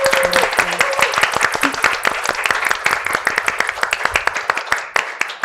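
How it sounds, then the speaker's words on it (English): Audience applause for speakers at a Liberty in North Korea advocacy fellows talk: dense, close hand-clapping with sharp individual claps, holding steady for several seconds and thinning near the end, with a brief voice at the start. "Please help me to give a warm round of applause for Hannah Song and Hannah and Rose"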